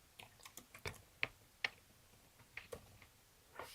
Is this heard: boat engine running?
no